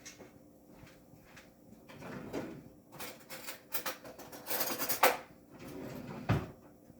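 A kitchen drawer slid open to fetch a spoon while cooking corn chowder, soft rolling scrapes followed by a brief metallic rattle of utensils and a dull thump, close by.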